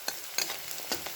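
Chopped onion frying in a pan for a wild-vegetable curry, a steady sizzle broken by a few sharp scrapes of a spoon stirring, close and alone.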